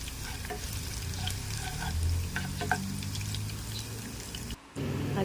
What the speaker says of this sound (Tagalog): mainit ng ating mantika. Isutay na natin ang ating bawang.